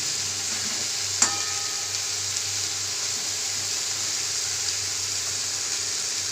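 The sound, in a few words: frying eggplant in onion masala gravy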